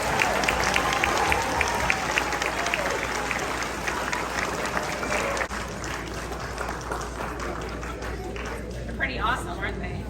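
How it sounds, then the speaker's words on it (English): A spring concert audience at a middle and high school claps throughout, continuous lively applause with scattered voices mixed in at a moderate distance. "Let's give them another round of applause"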